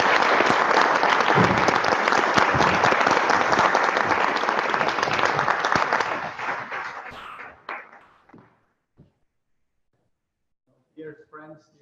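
A large audience breaks into loud, sustained applause welcoming a speaker at a talk; the clapping holds steady, then thins to a few scattered claps before fading, with a brief voice at the end.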